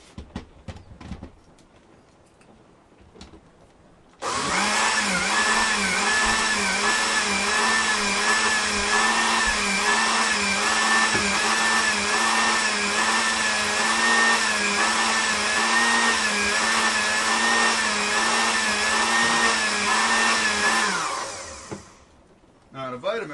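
A countertop blender runs continuously for about seventeen seconds, blending a thick green smoothie with cashew nuts in a loud, steady whir that stops abruptly near the end.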